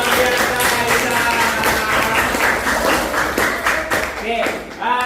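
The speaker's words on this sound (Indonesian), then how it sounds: "tepuk tangan dong" Classmates in a school maths lesson clap together for a student, dense steady patter of hand claps filling the room, with some voices mixed in.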